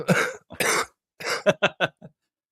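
A run of harsh coughs, two longer ones followed by several short, rapid hacks, close and loud with no talking.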